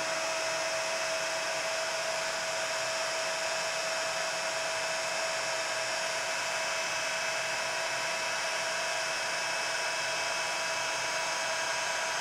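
Steady, loud whirring roar of a heat tool melting thick layers of embossing powder on an acrylic painted art journal page, running without a break and with a faint tonal whine.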